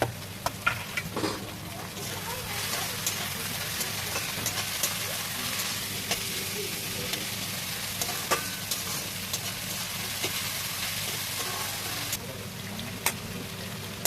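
Potatoes and cabbage frying in a pan, a dense continuous sizzle with occasional clicks of a stirring utensil, close up, with voices talking over it.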